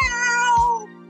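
A cat gives a clear, close meow, a single loud tonal call lasting under a second, alone with no talking.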